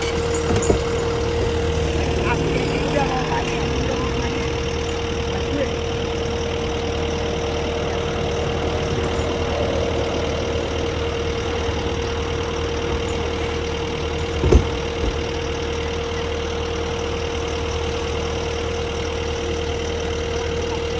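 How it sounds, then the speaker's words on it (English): Bulldozer and skid steer engines idle and rumble steadily at a land clearing, a constant mechanical drone with a low whine and a single brief knock partway through. "Coming in with some bulldozers and skid steers and stuff like that."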